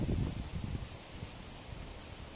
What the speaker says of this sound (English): Little bit windy outside.